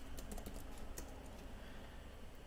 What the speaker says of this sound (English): We can type in WPOA up here